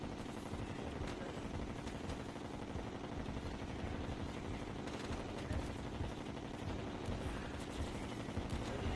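Dense, continuous rapid gunfire from the video game Terraria with Fargo's Souls Mod runs as a steady rattling barrage for the whole stretch, faint and even with no pauses.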